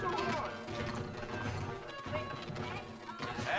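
Horses' hooves clip-clopping in the video game Red Dead Redemption, a busy layered bed of hoof clatter and movement with a voice speaking over it throughout.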